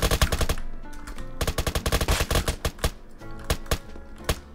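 Sniper and other gunfire in the Roblox game Apocalypse Rising 2 cracks out in loud, close bursts, a rapid clustered volley at the start, then a string of separate shots with brief gaps.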